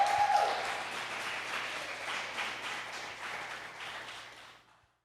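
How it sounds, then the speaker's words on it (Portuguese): A church congregation applauding, a steady wash of many hands clapping at moderate volume, heard from a slight distance and tapering off near the end. "Aplauda o Senhor, velho."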